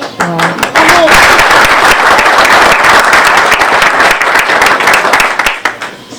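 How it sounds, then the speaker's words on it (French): After a brief tonal voice at the start, an audience at a garden inauguration bursts into loud, dense applause that swells and holds, then tapers near the end. "Merci pour vos applaudissements"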